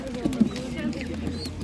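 Soft, low pigeon coos murmur close by at a Ukrainian animal market, a few gentle throaty calls blending with faint background rustle.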